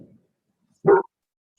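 Small dogs at home, a short yelp-like bark burst that rises abruptly after a faint whimpering murmur, fairly close and loud, then silence.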